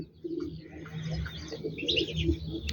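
Turkish tumbler pigeons coo at a loft, soft low throaty calls repeating close by with some faint chirps over a warm background hum.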